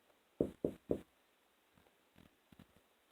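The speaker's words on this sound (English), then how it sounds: "He knocked on the door" Three firm knocks on a door in quick succession, close and distinct, followed by faint shuffling and a few softer taps in an otherwise quiet room.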